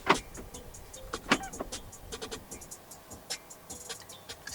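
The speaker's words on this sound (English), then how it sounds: "this car does have power folding side mirrors. To fold the side mirrors in from the inside, press this button right here." A 2025 BYD Atto 2's power-folding side mirrors fold in, heard from inside the car as a faint electric motor whir with scattered small clicks and taps over several seconds, quiet and close, with no voices.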